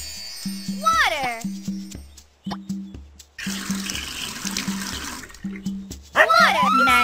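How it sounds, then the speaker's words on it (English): Water pours in the children's video game Dora's Magical Garden, a bright trickling splash that comes in two bursts amid cheerful game music and a voice talking. "Water."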